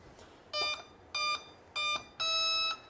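An RC plane's electronics beep on startup: four clear electronic tones, three short and one longer, evenly spaced and alone in a quiet room.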